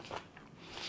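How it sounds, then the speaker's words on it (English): Raw onion crunched while eating traditional German pork roast, one or two brief close bites with crisp crackle, no talking. "Now I want to have some onions."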